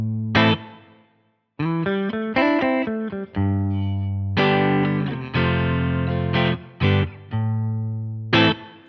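A clean electric guitar tone played through a MOTU UltraLite audio interface, with plucked single notes and chords that ring out and stop in short phrases, loud and close with no voices.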